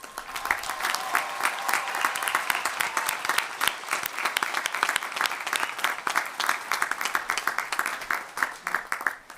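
A crowd applauds the graduates at a May 2023 undergraduate commencement ceremony, with dense, steady clapping that stays loud and continuous throughout.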